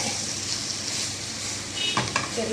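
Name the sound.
stirring and frying chicken sausage with masala powder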